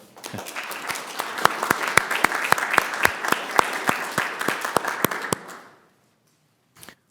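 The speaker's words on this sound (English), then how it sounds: "give everyone a round of applause" Applause fills a transit agency board of directors meeting: a full room claps steadily for about five seconds, with a few sharp louder claps standing out, then it stops abruptly and a brief faint sound follows.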